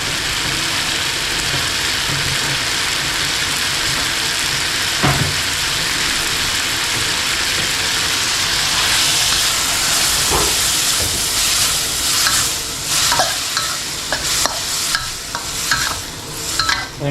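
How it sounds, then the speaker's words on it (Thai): Water goes into a hot pan of stir-frying bamboo shoots with yellow chili and meatballs, producing a loud continuous sizzle and steamy hiss, joined later by clattering scrapes of stirring. "แล้วผมจะขอเติมน้ำลงไปเล็กน้อยนะครับ"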